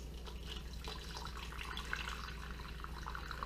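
Hot water poured into a baking dish for bread pudding, a faint steady trickling and splashing stream that runs continuously and quietly.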